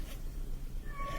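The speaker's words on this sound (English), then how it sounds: "my cat is screaming" A domestic cat yowls and meows loudly indoors, with a drawn-out, wavering cry near the end above a low background hum.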